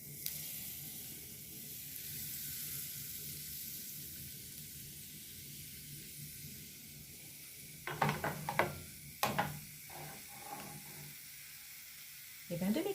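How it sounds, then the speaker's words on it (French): Crêpe batter cooks in a pan with a quiet, steady sizzle, broken later by a few sharp clicks and scrapes of utensils against the pan. "je vais commencer la cuisson"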